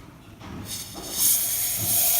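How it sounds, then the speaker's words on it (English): Steam wand of a La Pavoni lever espresso machine with a replaced steam tip, hissing close and loud; a soft onset swells into a steady, bright rushing hiss that holds to the end. "let's see the steam action"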